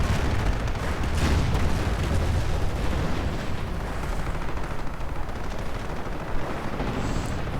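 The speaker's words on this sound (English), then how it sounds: "More Katyusha fire." Katyusha rocket artillery barrages in a WWII strategy video game: a dense, continuous rumble of booming fire and explosions, loud and sustained throughout with no voices.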